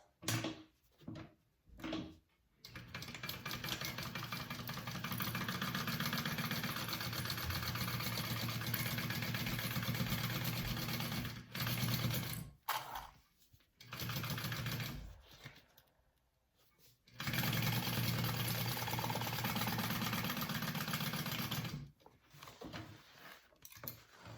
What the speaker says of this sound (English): So go ahead and stitch that on.